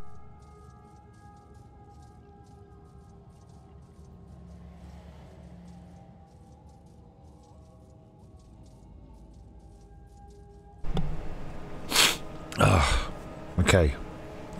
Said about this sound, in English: Hang on, I'll have a coughing fit.